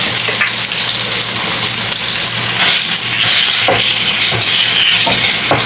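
Beef strips frying in a hot pan for a pepper and mushroom stir fry, a loud steady sizzle and hiss with occasional small crackles and clicks, close up.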